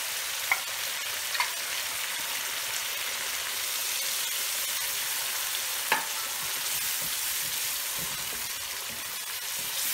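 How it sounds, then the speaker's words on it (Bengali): Taro stems with prawns and coconut milk cooking on high heat, a constant dense hiss and bubbling fry with a few faint utensil taps, no voices. "চুলার জালটা আমার হাই হিটে আছে, এখন এই সমস্ত কিছু আমি একদম শুকিয়ে নেব"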